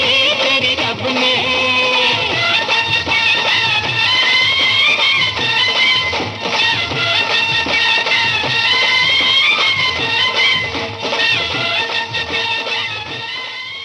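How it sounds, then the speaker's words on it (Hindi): A Hindi film song from Suhaag plays continuously with a full orchestral backing and lively vocals at a steady, loud level throughout. "सुहाग फिल्म का ये गाना आपने सुना"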